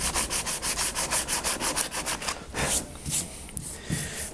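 Gelcoat being sanded off the transom of a Laser dinghy, rhythmic back-and-forth rasping strokes close up at a steady pace that turns into slower, uneven scrubbing, with no talking.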